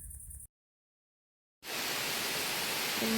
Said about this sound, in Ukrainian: Дощ просто стіною став.